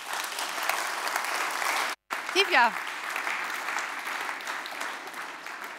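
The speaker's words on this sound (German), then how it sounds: "Ich muss wirklich nochmal um Applaus bitten für diesen Spirit" Audience applause at a Bavarian digital summit conference, a steady dense clapping that fills the clip, broken by a brief dropout and a short burst of talk near the middle.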